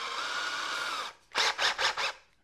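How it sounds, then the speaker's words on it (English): A power drill runs in a steady whir, stops, then gives four short bursts in quick succession as a paddle bit is swapped for a 1/16 inch bit in a woodworking shop. "Now I'll take the paddle bit out of the drill and replace it with a 1/16 inch bit."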